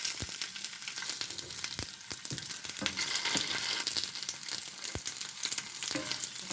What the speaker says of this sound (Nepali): डिप फ्राई गर्छु।